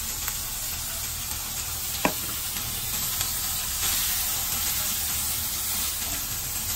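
Spices fry in hot oil with ginger and garlic, giving a steady soft sizzle and hiss, with a few faint clicks of a utensil against the pan.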